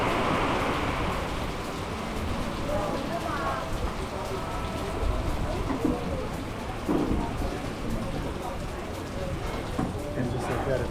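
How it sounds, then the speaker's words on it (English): Heavy tropical rain pours steadily and loudly on a Caribbean resort in Curaçao, a dense continuous wash with occasional low rumbles, holding constant across the whole stretch without easing off. "Just like that, it stopped raining."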